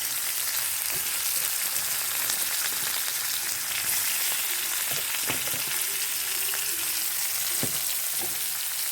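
Ginger and onions fry in a pan with a steady close hiss of sizzling oil, occasional soft clinks and scraping of stirring heard throughout, no voices.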